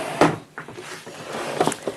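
A drawer of beads and craft supplies sliding open or shut, making a couple of close wooden thumps and rattles with a brief scraping slide between them.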